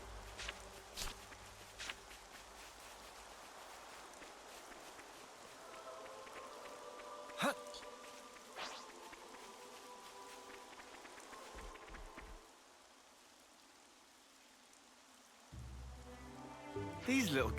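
Rain falls in the video game Xenoblade Chronicles 3, a soft continuous patter mixed with footstep-like taps and a few brief tonal chimes. The sound goes quiet near the end before louder game sounds return.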